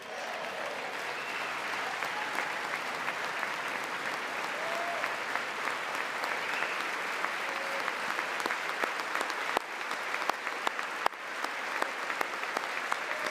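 Sustained applause from an audience at a Trump speech on crypto, a dense, even roar of many hands clapping with a few sharper claps standing out, continuing steadily throughout with no voices.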